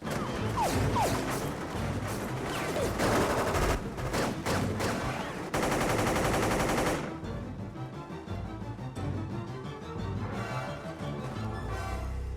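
Heavy film gunfire sound effects rattle almost continuously, with rapid bursts and sharp crashing impacts piling together, loud and dense throughout.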